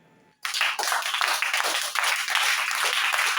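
Congregation in a French-speaking church service bursting into sustained applause after a brief quiet moment, dense steady clapping that holds loud from start to finish.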